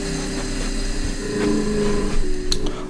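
A machine stitches leather for a leathercraft project, giving a steady whirring mechanical hum with a faint rhythmic needle chatter and a few sharp clicks near the end, close and continuous without speech.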